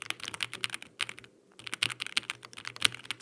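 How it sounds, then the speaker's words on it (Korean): Typing on an Angry Miao AM AFA R2 leaf-spring-mounted keyboard: quick, soft, bubbly keystrokes in an uneven stream, close up, with a short pause partway through. "타이핑 소리 한번 들어보시고요."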